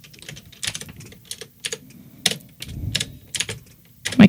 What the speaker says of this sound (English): My keyboard sounds weird right now because I have the way I have it sitting out of the way